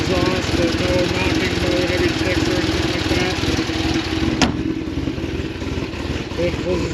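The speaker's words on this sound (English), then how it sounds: "7-liter V8 fires right up. Oh, aggressive sound coming out of the Corsa" A 7.0L LS7 V8 in a 2006 Chevrolet Corvette Z06 idles through a Corsa exhaust with a loud, steady, lumpy rumble close by, broken once by a brief sharp click, while someone talks over it.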